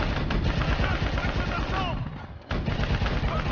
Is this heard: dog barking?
no